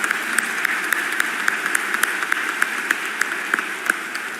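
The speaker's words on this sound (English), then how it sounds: "I would ask a quick hand of applause again for Sri Gayatri." Audience applause at the rollout event for the all-electric Mercedes-Benz EQS, with a steady wash of many clapping hands and sharper individual claps standing out, sustained and fairly loud throughout.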